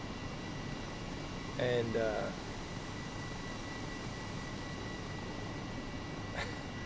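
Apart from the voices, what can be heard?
C-17 aircraft jet engines in Microsoft Flight Simulator video game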